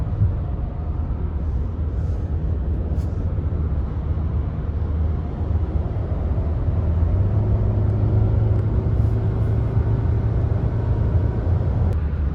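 Steady low rumble of road and engine noise heard from inside a 2020 Mercedes GLA 250 compact SUV while driving, constant and even throughout with no talking.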